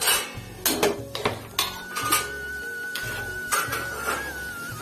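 Metal spoon clinks against a cup or pan while sugar is spooned into tea being made dhaba style at home, several sharp close taps and scrapes spread over a steady low kitchen hum.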